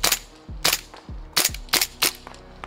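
A G&G MGCR 556 gas blowback airsoft rifle fires a rapid string of about six sharp, loud cracks with clacking bolt recoil, dumping the rest of its magazine outdoors.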